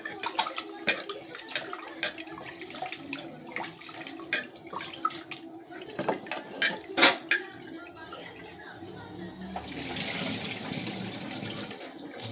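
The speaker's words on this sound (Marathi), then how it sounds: "दोन पाण्याने चांगल्या तांदळाला आधी धुवून घ्यायचं." Indrayani rice being washed in water in a pot, with a steady wet swishing and occasional clinks of the pot and utensils, a burst of running water near the end, all close and moderately loud.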